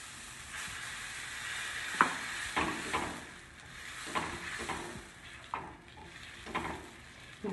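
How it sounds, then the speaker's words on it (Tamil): Oil sizzling and crackling on a hot cast-iron dosa griddle while a kappa kilangu (tapioca) masala dosa is prepared, a steady close hiss with several sharp spits and scraping stirring sounds throughout. "கல் காஞ்சிருச்சு, அதனால் எண்ணெய் தடவிட்டு"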